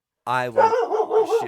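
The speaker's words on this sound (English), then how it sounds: "Sorry about the dog." A dog gives a short, high yelping bark close by, and a person speaks over the rest of the moment.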